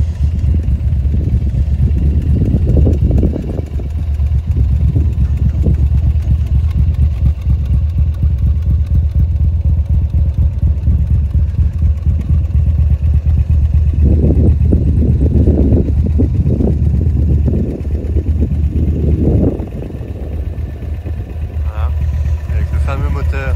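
A Morgan Three Wheeler's twin-cylinder engine idles close by with a steady low throb, while someone talks over it in several stretches.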